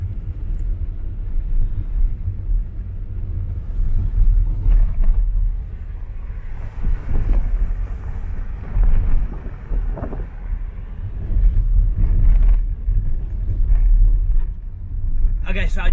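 A car drives through the African bush near MalaMala with the window open, giving a steady low engine rumble and buffeting wind noise throughout. A person speaks over it now and then.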